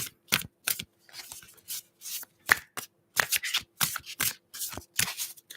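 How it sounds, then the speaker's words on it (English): Tarot cards being shuffled by hand in quick irregular bursts, crisp riffling and slapping sounds, close and fairly soft, with no talking. "Oh, I love to shuffle this."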